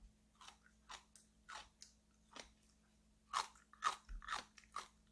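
Crunchy pickled green plums (maesil jangajji) are bitten and chewed in a quiet room, giving crisp close-up crunches, first sparse and then quicker and louder, with no talking.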